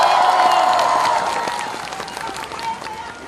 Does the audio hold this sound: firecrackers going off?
no